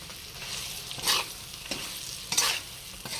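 Mango pickle being stirred in a pan with roasted spices, quiet sizzling beneath three or four distinct scraping stirs spaced about a second apart, close and moderately loud, with no voices.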